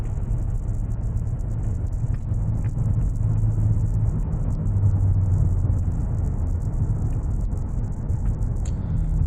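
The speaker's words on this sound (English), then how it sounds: "in a high-performance car, it's a lot of fun on dry pavement." A high-performance car drives a curvy road, its engine giving a steady low rumble with faint rises in tone, heard from inside the car with no talking.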